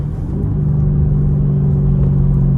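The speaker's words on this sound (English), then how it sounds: "Just listen to that rumble of the V8." A 2007 Infiniti FX45's V8 engine rumbles steadily through a downshift, a loud, deep, continuous drone close by that holds even throughout, with no talking over it.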